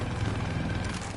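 A steady helicopter rotor drone in Battlefield 4 thrums low and continuous, filling the short clip without pause.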